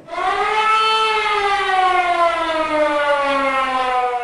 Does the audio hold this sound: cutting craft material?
no